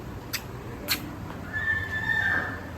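A horse whinnies loudly and close by, with a couple of sharp hoof or knock sounds before the long, rising and falling neigh.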